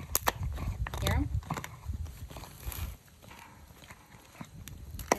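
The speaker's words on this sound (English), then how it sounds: "Look at him chewing on that cow ear." A dog gnaws on a cow ear treat close up, giving irregular crunchy clicks and chewing noises, with quieter pauses between bites and no talk.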